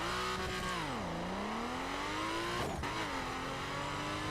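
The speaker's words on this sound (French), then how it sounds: "Une de mes meilleures voitures qui a la meilleure accélération" A video game car with very strong acceleration, going 0 to 100 in about two seconds, revs hard with a rising engine whine, drops at a gear shift, then climbs again, loud and close.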